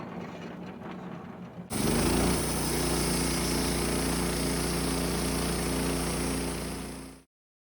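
A Woodmizer LT15 sawmill's engine roars up and its blade cuts through a knotty pine log, a loud steady whine and drone held for several seconds before stopping abruptly, preceded by quieter idling.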